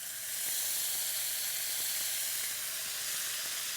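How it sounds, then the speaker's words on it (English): Ham and bacon sizzle and steam in a pan after water is added, a loud continuous hiss with faint crackles scattered through it, close up and without speech. "we're just going to add a little bit of water to steam this"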